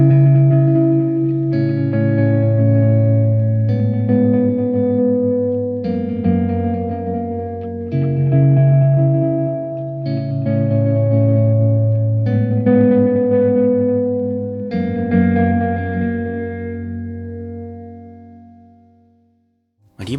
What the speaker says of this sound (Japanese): でラストがナイトスカイリバーブですね